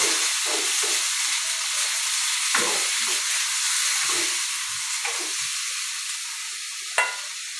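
Chicken and tomatoes being stirred in a frying pan for kinamatisang manok sizzle with a steady hiss, broken by scraping stirs and a sharp clack near the end.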